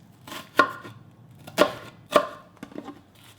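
A kitchen knife chops two garlic cloves and a quarter cup of onion on a cutting board for Korean rosé tteokbokki, giving three crisp, close chops at uneven intervals and a few softer taps between them, with no talking.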